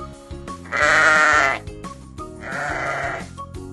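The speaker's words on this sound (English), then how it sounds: "Sheep." A sheep bleats twice nearby, two wavering, nasal calls each about a second long separated by a short pause, with no speech over them.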